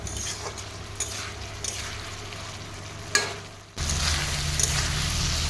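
Potatoes cooking down with spices in oil in a pan, a steady sizzle and frying hiss with occasional stirring scrapes, turning noticeably louder and fuller partway through.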